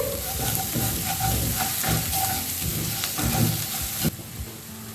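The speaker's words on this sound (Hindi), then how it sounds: "सारे मसाले को अच्छे से मिक्स करेंगे।" Ground cumin, coriander and Kashmiri red chilli powder sizzle and fry in a pan for chana masala, a steady loud hiss with scraping stirs throughout.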